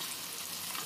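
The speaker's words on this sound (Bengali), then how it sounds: "মাছের পিসগুলো একটা একটা করে তেলের মধ্যে দিয়ে দিতে হবে" Pieces of rohu fish sizzle in hot oil in a kadai, giving a soft, steady, hissing frying noise with no talk over it.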